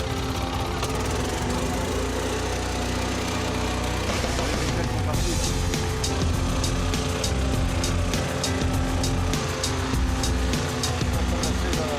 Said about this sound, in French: Maintenant, il ne reste plus qu'à démarrer le moteur